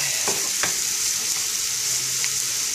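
Diced bell pepper and green onions hit a hot pan for shakshuka, giving a steady, close frying sizzle with a couple of brief clatters as the vegetables land and get stirred.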